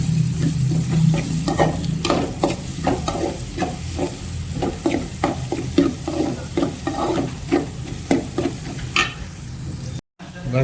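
Onions frying in a pan for a brinjal and potato curry, with a steady sizzle broken by repeated rhythmic scrapes of a spatula stirring, close and fairly loud, no talking.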